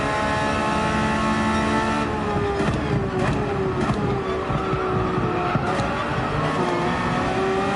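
A race car in Gran Turismo 7 at Brands Hatch downshifts through an S-bend, the engine note steady and loud throughout, with brief tire squeal and skidding as it nearly slides off track.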